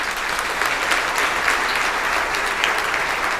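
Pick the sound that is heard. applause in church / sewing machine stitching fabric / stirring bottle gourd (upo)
applause in church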